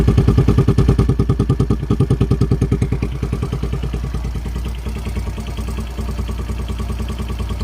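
A motorcycle engine with a freshly cleaned carburetor revs hard and loud close by, its rapid pulsing thrum running continuously and settling slightly toward a steadier throb.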